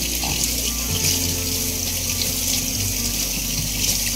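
Warm water pours steadily from a tap over chalk paint brushes at a sink, a continuous, close rushing stream with no talk over it.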